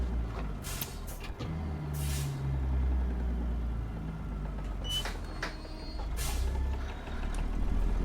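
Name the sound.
truck air brakes squealing, American Truck Simulator video game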